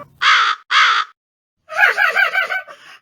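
A crow in a Tamil fairy tale cartoon caws loudly twice, then lets out a quick run of rapid, rising caws, clear and close with no talk.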